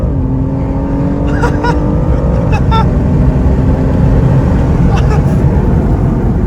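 A tuned BMW M235i engine revs hard from inside the car, a loud continuous roar with rising and falling pitch sweeps and a few sharp pops, while excited voices carry on over it.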